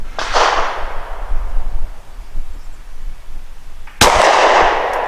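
Two loud, close gunshots from a Maddy Custom G43 pistol firing Norma 124 grain rounds, each a sharp crack with a long echoing tail, about four seconds apart.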